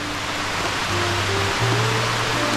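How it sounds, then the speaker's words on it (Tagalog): Heavy rain pours steadily onto a leaky anahaw-leaf roof, a dense, continuous hiss with no pauses, and a low hum runs beneath it. "naglakas yung ulan"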